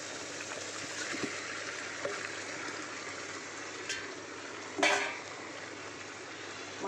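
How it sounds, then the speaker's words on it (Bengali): Marinated mutton frying in oil in a kadai gives a faint, steady sizzling hiss, with a couple of brief clinks or stirring knocks partway through. "আমি এবার ম্যারিনেট করা মাটনটা দিয়ে দেবো। এই যে দেখো মাটনটা যে ম্যারিনেট করে রেখেছিলাম, এই মাটনটা এবার কড়াইয়ের মধ্যে দিয়ে দেবো।"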